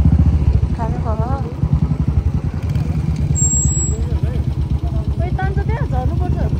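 A motorcycle engine runs close by with a rough, pulsing putter that fluctuates as it revs, while people talk over it.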